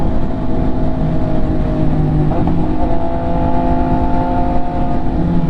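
An MV Agusta motorcycle engine running loud and close, a steady rough drone with slight rises in pitch, no voices over it.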